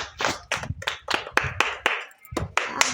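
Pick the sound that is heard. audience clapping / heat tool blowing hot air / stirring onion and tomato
audience clapping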